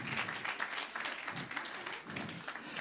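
Audience at a real estate investment awards ceremony applauds a called-up winner, a faint, distant wash of steady clapping in a large room, with a voice over it.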